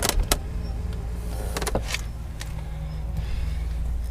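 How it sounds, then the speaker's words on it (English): The power seat motor in a 2001 BMW E39 530i whirs steadily inside the car, a close electric hum with a few brief clicks and bumps, and no talking. "Electric seats, which will work when you ignition turned on."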